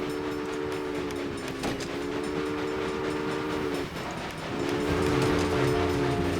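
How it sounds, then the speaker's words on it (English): A steam train in the game Railway Empire rolls along with a steady chugging rumble while its horn blows in long sustained tones, breaking off briefly before sounding again and growing louder toward the end. "There goes our train."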